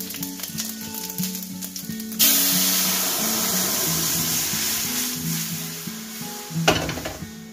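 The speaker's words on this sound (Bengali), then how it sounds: "সবার প্রথমে আমি বেগুনগুলো ভেজে নেব" Eggplant slices fry in a pan, a loud, steady sizzle that bursts up suddenly and spits on continuously, with a fresh surge near the end, all over a soft melodic background.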